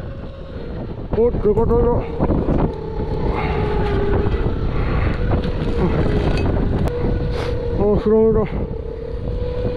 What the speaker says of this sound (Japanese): めちゃくちゃ風が吹いてきました。